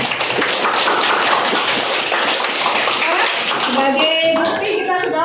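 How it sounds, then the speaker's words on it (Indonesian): A classroom of students claps hands together in a brisk, fairly loud burst of overlapping claps for several seconds, tapering as a voice starts talking near the end. "kita kasih tepuk tangan untuk kesepakatan"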